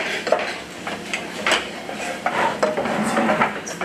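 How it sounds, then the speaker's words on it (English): Spices stirred into vegetables in a pan, a utensil scraping and clinking against the pan in short irregular strokes, close and moderately quiet with a faint sizzle beneath. "So all of your spices are just going to go straight in and you're going to stir that."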